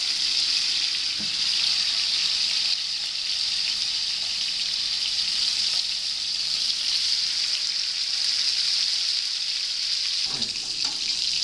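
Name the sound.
steak sizzling in a hot frying pan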